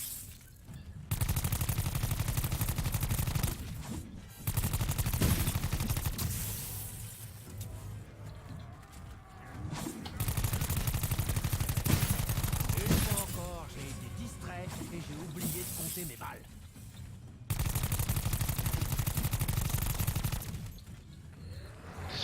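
Gunfire in a video game zombie mode comes in long dense bursts of automatic fire separated by short pauses, loud and close, with a player's voice heard in the gaps.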